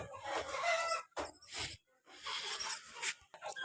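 Chickens cluck in and around a cage where a hen sits to lay an egg, giving several short bursts of clucking with brief pauses. The sound is close but fairly soft.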